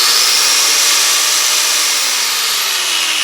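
Small electric power tool running at full speed, around 4,500 RPM, a loud steady high-pitched whine with a slowly falling tone, close and uninterrupted.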